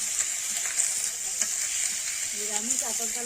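Vegetarian food frying in a pan in a home garden cooking area, with a steady bright sizzle and occasional light stirring, while a faint voice murmurs briefly near the end.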